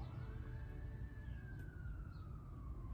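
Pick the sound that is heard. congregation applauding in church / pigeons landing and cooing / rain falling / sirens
sirens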